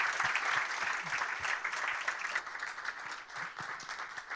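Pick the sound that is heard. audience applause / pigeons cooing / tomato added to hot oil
audience applause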